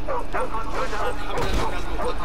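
In the Modern Warfare Remastered video game, an attack dog barks and whimpers in short yips, layered under loud game noise and someone talking over it.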